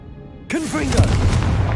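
Confringo blasting spell from Hogwarts Legacy bursting in a single booming explosion, followed by a crackling, whooshing tail with swept tones of game effects.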